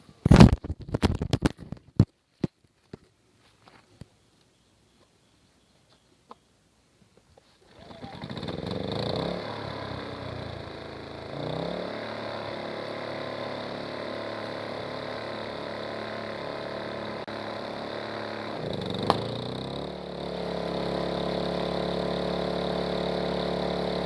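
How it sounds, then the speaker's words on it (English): A generator driving a water pump at an off-grid tiny home starts after a few sharp clicks and quiet, then runs as a steady, moderately loud engine drone with small surges in load. "The generator handled it just fine, did exactly what I expected."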